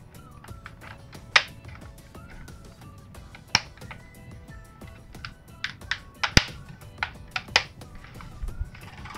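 A plastic trim piece on a Toshiba laptop snapping into place, a series of sharp close clicks and taps scattered over several seconds, with a few louder snaps.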